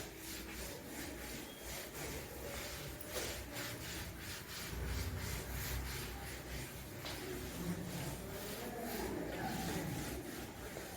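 A classroom board being rubbed clean with steady scraping, swishing strokes that run continuously at moderate loudness, with a little background room noise.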